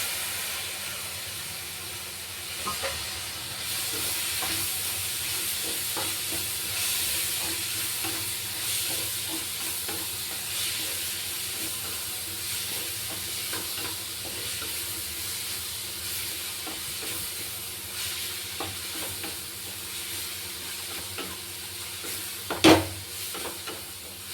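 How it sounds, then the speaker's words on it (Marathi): Moth beans (matki) frying in a pan give a long, even sizzle and hiss, with faint stirring and one sharp knock near the end. "अशी 2 मिनिटं फ्राय होऊ द्यायची"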